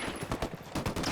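Rapid bursts of gunfire in the Ghost Recon Wildlands shooter game during a sniper firefight, several sharp cracks in quick succession at close range.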